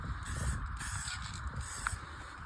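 An aerosol spray paint can hisses in light, intermittent bursts as paint is dusted onto a surface, faint and close with short pauses between sprays.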